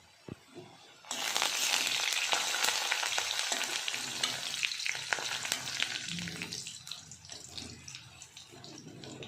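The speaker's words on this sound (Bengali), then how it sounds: "রসুনটা একটু ভাজা ভাজা করে" Garlic fries in oil with nigella seeds, a loud hiss bursting in after a quiet start and then running as a crackling, spitting sizzle with scraping stirs, easing slightly toward the end.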